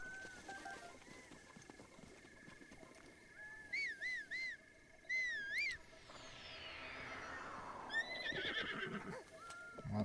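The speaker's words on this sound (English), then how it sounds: "I'd rather whistle for the horse than having to, play the Pona song every damn time" Horse in a Zelda video game: a few short warbling whistle calls, then a long descending neigh and a further whinny over a quiet ambient game background.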